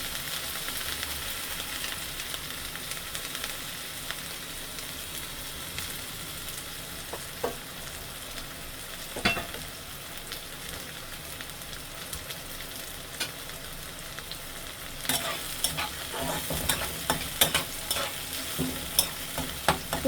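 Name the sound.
onions frying in oil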